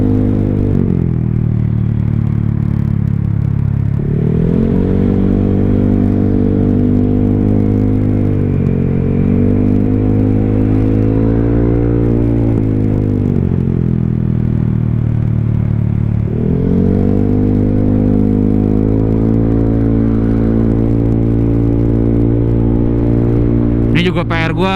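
A Honda Vario scooter engine with an erroring IACV sensor runs loud and close, rising and falling through several revs over a steady rumbling idle, with a brief clatter at the end.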